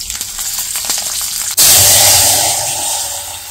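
Sliced ivy gourd hits a hot pan and bursts into a loud sizzle partway through, after a quieter stretch of kitchen noise; the sizzling then continues and slowly eases.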